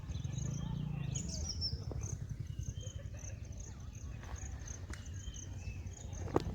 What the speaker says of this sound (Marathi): पक्ष्यांचे पण आवाज येतात आहे.